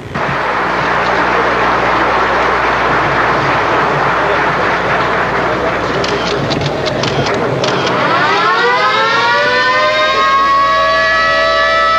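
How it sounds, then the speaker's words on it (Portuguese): A Carajás Railway ore train in Brazil, 1985, with three locomotives hauling 160 wagons loaded with ore, makes a loud, steady broadband rumble; a rising whine swells in near the end. "composto por 3 locomotivas com 160 vagões carregados com minério"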